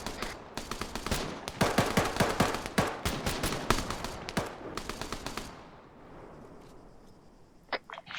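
Rapid video game gunfire during a shore patrol combat mission, with dense bursts of machine-gun and rifle shots crackling for several seconds before tapering to sparse, quieter reports.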